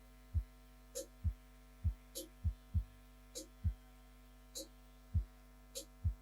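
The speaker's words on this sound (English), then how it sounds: "So I'm just running that foil machine right under." An electric foil shaver runs close to the skin during a men's haircut at a professional beauty show, giving a steady low electric hum with a series of soft, evenly spaced thumps.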